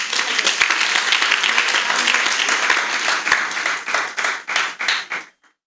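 A church congregation breaks into loud, dense applause that carries on steadily, then thins into a few scattered claps before stopping abruptly.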